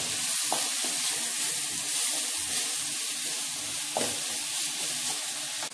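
Onions sauté in a pan for tomato chutney, a continuous close hiss of frying with soft stirring scrapes, steady and moderately loud with no talk.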